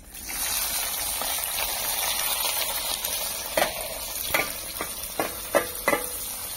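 Chopped onions sizzle and spatter in a steel pot, a steady frying hiss with sharp pops and stirring clatter growing more frequent toward the end, close and alone.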